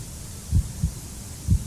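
Low, muffled heartbeat effect on a late-night TV phone-in quiz show, three soft thuds in an uneven pulse over a steady background hum, no talking.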